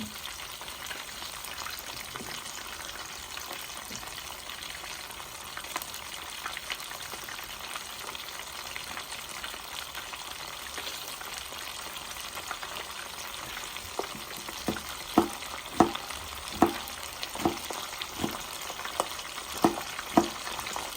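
Whole fish frying in hot oil, a steady broadband sizzle with sharper crackles and pops growing busier toward the end, close up and without speech.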